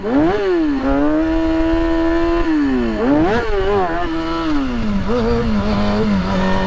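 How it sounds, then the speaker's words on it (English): A stunt motorcycle engine runs rough and loses power, its loud close drone wavering and rising and dipping through uneven revs without ever climbing cleanly. "Bike's running funny. When it's in a wheelie, it's not even letting me get the limiter."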